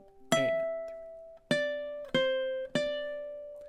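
Ukulele strummed through a measure of a song: four bright chord strokes at an unhurried, slightly uneven pace, each ringing and decaying before the next, close and clear with no talking.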